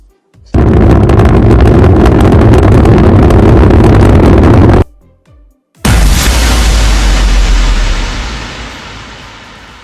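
Cannon explosion sound effect built in GarageBand: a loud, sustained booming blast for several seconds, a brief gap, then a second heavy rumbling burst that slowly fades away.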